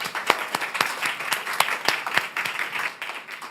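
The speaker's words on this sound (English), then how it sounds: "let's give a round of applause to the panelists." A small audience gives a round of applause for the panelists at an infrastructure resilience event, sparse distinct hand claps at a moderate level, fairly steady throughout.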